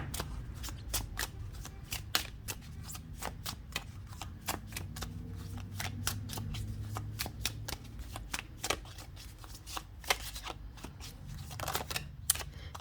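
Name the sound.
shuffling tarot cards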